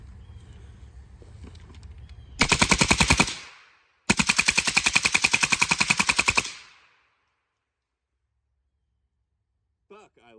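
A rifle chambered in 7.62x39 fires two rapid, loud bursts of rounds, the first about a second long and the second nearly three seconds, each followed by a short ringing decay, with faint noise and a brief voice near the end.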